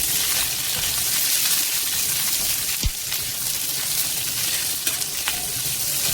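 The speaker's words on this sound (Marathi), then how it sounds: "तर इथे बघा तेल छान तापलंय. आता यामध्ये मी ऍड करणार आहे ह्या चिरून घेतलेल्या मिरच्या." Chopped green chillies fry in hot oil for a Maharashtrian thecha, a loud dense continuous sizzle close up with a faint clink of stirring.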